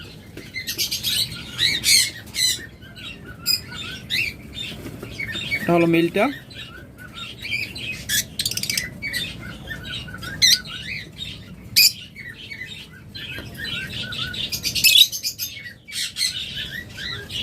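Caged pet birds for sale, close-ringed pairs, chirp and squawk in bursts, sharp high calls scattered throughout, with someone speaking briefly over them.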